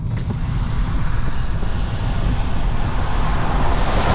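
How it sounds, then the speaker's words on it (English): Semi trucks roll past on a snowy multi-lane highway, a steady, loud rumble of engines and tire roar over wet pavement that swells slightly as they go by, with no talk. "I have two semi trucks, one in the middle lane, one in the right lane."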